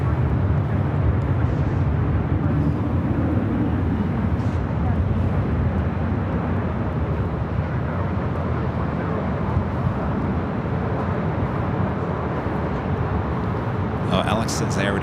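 Delta Airlines Airbus A321 jet on Flight 802 at LAX, a steady broad engine roar running throughout with wind rumble, loud and continuous, while people talk over it.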